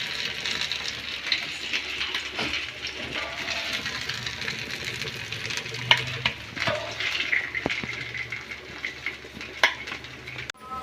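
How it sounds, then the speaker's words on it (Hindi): Potato patties fry in a pan with a soft, steady sizzle, broken by occasional sharp clicks and taps of a utensil against the pan. "चलिए इसको भी हम अलट पलट के अच्छे से फ्राई कर लेंगे।"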